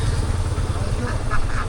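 Ducks quack on a wetland duck farm holding about six hundred laying birds, a close chorus of calls over steady outdoor background noise.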